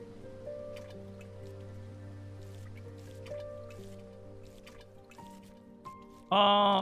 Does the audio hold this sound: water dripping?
yes